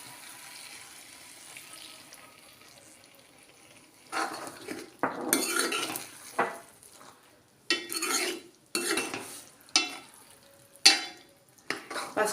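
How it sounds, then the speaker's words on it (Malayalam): First coconut milk pours into a simmering okra curry in a metal pot, then a spoon stirs and scrapes against the pan in repeated clattering bursts after a quiet start, close and clear. "തേങ്ങ പിഴിഞ്ഞ് വെച്ചിരിക്കുന്ന ഫസ്റ്റ് പാൽ ഒഴിക്കും"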